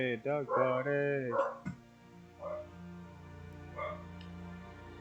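Several dogs bark and yip in the game Biomutant, a loud burst of barks at the start, then fainter, scattered yelps over a low background hum.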